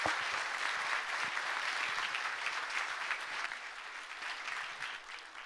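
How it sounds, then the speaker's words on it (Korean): Audience applause at a Korean public talk, a dense, steady wash of many hands clapping that holds for several seconds and fades slightly at the end, with no voices over it. "고생하셨으니까 박수 한번 부탁드립니다."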